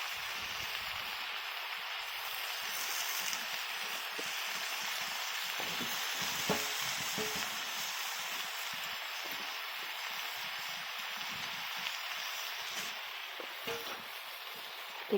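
Spinach is stirred and fried in a pan, a steady hissing sizzle with occasional soft scrapes and clinks of the spoon.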